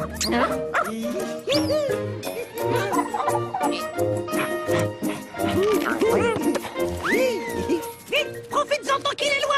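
A dog barks repeatedly and energetically, close by, with excited yips mixed in, while voices talk over the barking.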